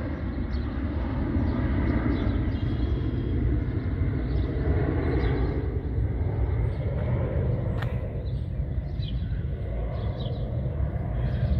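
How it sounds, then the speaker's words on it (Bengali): A plane passes overhead near an airport in Prospect Heights, Illinois, its engines making a continuous low, broad rumble that holds steady throughout, with faint higher outdoor noises scattered over it. "পাশে এয়ারপোর্ট থাকা এখানে মাঝে মাঝে প্রচুর প্লেন যায়।"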